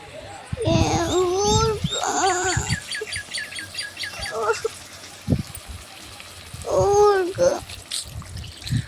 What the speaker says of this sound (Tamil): நமக்கு தேவையான தண்ணி ஊற்றிப்போம்